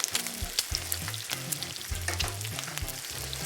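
Strips of bacon fry in a pan, some turning extra crispy, giving a steady close sizzle peppered with sharp crackles and pops and no voices.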